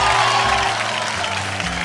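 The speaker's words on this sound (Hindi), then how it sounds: "एगो जोरदार ताली अपने ऑडियंस के लिए" Studio audience applause rings out on a televised folk singing contest stage, a dense burst of clapping lasting under two seconds with some underlying music.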